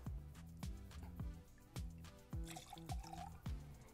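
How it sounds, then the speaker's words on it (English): Two ounces of Woodford bourbon glugging from a bottle into a cocktail shaker, a quiet close series of rhythmic gurgling pulses over about four seconds. "Then we'll do 2 ounces of bourbon."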